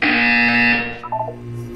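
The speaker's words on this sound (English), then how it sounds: "You will hear a buzzer." A loud, steady electronic buzzer from the video game Portal 2 drones harshly for most of a second, then cuts off into a few brief fading tones.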